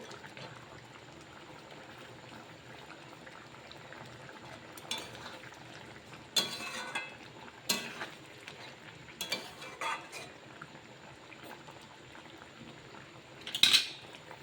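Fried paneer pieces go into a pot of simmering potatoes and cauliflower and a spoon stirs them, soft bubbling under scattered scrapes and clinks that grow louder near the end.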